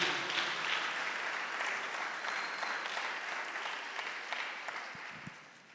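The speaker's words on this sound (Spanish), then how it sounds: "Den un aplauso fuerte al Señor" A church congregation claps steadily and fairly softly, a dense, even wash of applause for the Lord that holds for several seconds without any talking over it.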